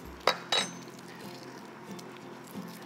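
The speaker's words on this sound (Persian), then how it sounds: "و این پشت قاشق بزنیم بسیار راحت پوست میشه." A spoon's back taps a warm boiled egg's shell twice in quick succession, producing sharp, faint clinks in a quiet kitchen, followed by soft faint handling sounds.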